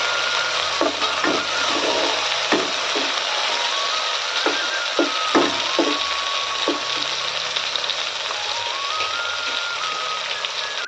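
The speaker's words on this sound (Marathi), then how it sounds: "मस्त असा कलर आलाय कांद्याला यात टाकूया आपण चिरलेले टोमॅटो याला थोडे होऊ द्यायचे आहे" Chopped tomatoes hitting a pan of browned onions for a village-style fenugreek and pigeon pea curry, a steady sizzle with scattered clinks and stirring knocks, near and clear, with no talk over it.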